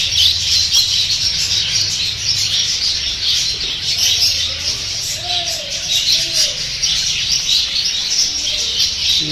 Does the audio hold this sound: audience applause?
no